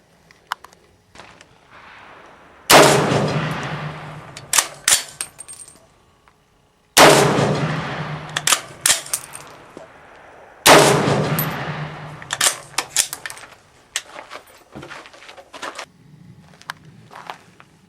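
Three loud, sharp gunshots from a 300 AAC Blackout rifle with a 16 1/4 inch barrel firing Winchester 296 loads, each followed by a ringing echo, spaced a few seconds apart outdoors.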